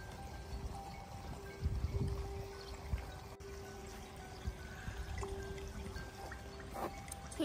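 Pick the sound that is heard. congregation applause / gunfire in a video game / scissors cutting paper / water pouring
water pouring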